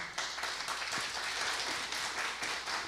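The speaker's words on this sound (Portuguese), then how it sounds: "Recebe os nossos aplausos." Audience applause for a speaker at an ESG industry panel, a soft, fairly distant patter of many hands clapping steadily throughout, with no voices over it.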